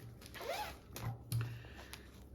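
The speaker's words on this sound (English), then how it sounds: "So this is just a little zippered pouch for like your scissors and your little seam ripper" A small zippered pouch for sewing scissors and a seam ripper being zipped, with a couple of quick, close zipper pulls in a quiet room.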